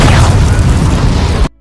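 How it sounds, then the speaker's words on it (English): A suicide bomb detonates in a war film set in Afghanistan, a loud, sustained blast of roaring, crackling noise that holds at full strength and then stops suddenly. "a suicide bomber sets off his bomb"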